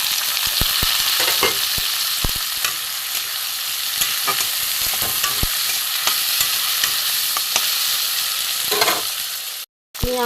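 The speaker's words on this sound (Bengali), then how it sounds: "পেঁয়াজ, টমেটো, কাঁচা লঙ্কা ভাজা হয়ে গেছে" Onion, tomato and green chilli frying in a pan for an okra dish, a steady close sizzle with scattered stirring scrapes throughout, cutting out briefly near the end.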